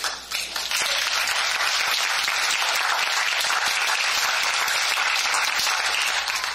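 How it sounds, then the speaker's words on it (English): An audience at a Kansas City regional gathering breaks into loud, sustained applause, a dense wash of many hands clapping that holds steady after a brief softer start. "you deserve a round of applause"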